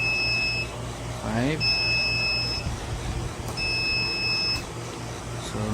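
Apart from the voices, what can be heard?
pisonet timer warning beeps before auto shutdown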